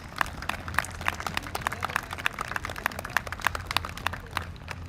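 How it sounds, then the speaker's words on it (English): Parents clap for their own efforts at a kindergarten recognition ceremony, scattered sharp claps forming a modest, fairly distant round of applause that carries on steadily with no talking over it. "please give yourselves a big round of applause for all of your efforts"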